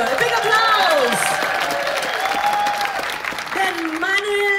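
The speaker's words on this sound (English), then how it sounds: "A big applause." An audience aboard the cruise ship Mein Schiff claps for the ship's theater team, a steady wash of applause running under someone talking over a microphone.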